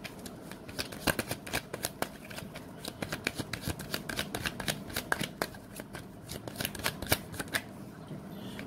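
Tarot cards being shuffled, a close series of crisp riffles and snapping flicks in uneven bursts, with no talk over them.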